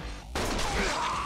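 A sudden loud burst of gunfire in Like a Dragon Gaiden, breaking in sharply after a brief lull and ringing on as a dense, close crackle under the game's music.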